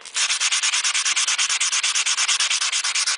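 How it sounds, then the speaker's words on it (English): Stainless steel car trim being hand sanded in one direction with 150-grit paper: a loud, close, fast, steady rhythm of rasping strokes, about nine per second, with no voices. "take your 150 and just in one direction, you're just sanding out all the file marks."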